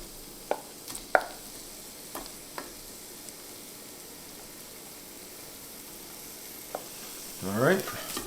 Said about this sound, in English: We're going to throw in our onions into this and start getting them cooking and sauteing them up.